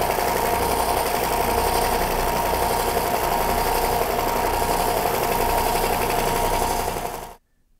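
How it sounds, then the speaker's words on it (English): A bandsaw cuts the excess from a wood template with a loud, constant whirring drone and a thin steady whine, running evenly for about seven seconds before cutting off into silence. "So my next step is then to take this over to the bandsaw and waste out the excess."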